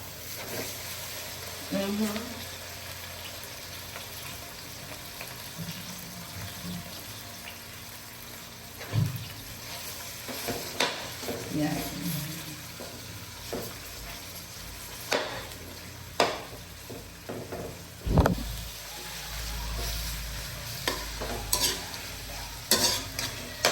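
Pork frying in a pan sizzles softly while a utensil stirs and scrapes through it in irregular clatters, with faint talk now and then in a home kitchen.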